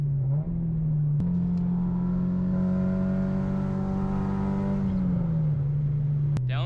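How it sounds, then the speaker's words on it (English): An Acura RSX with a custom exhaust accelerates through the VTEC crossover, its engine note climbing steadily in pitch and loudness before easing back, heard from inside the car with a couple of sharp clicks. "Let's see if we can ease our way into VTEC again so you guys can hear that again."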